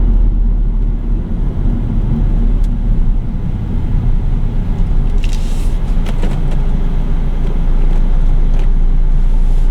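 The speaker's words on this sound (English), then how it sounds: "A lot of cars out." Steady road traffic rumbles past on a busy street, continuous engine and tire noise fairly loud and close, with no talk.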